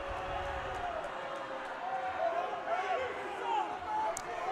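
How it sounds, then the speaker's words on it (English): Basketball gym crowd at a Springdale vs. Rogers varsity game grumbling and murmuring in disapproval after a foul call, a steady broad crowd noise with some voices rising above it throughout. "The crowd not happy."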